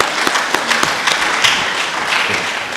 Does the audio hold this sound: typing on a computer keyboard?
no